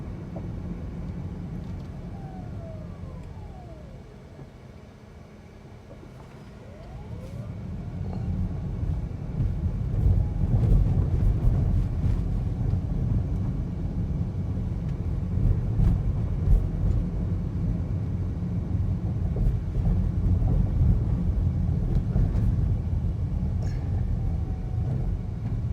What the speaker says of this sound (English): now we're gonna go over some rough roads and I'll see if the ride quality has improved